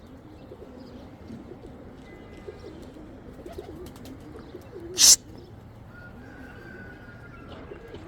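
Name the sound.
rare Sina pigeons cooing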